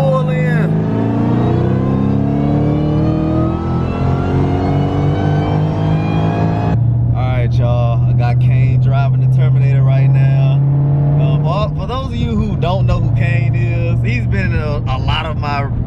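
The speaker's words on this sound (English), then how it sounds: "it wouldn't be right if I didn't drop down the third and get a pull in." Car accelerating hard after a downshift to third gear, the engine note climbing in rising harmonic sweeps and holding loud and close, then steadying as a person talks over it for the latter half.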